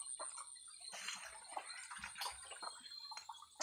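Water running and splashing in a steady, hissy stream, fairly faint and continuous throughout.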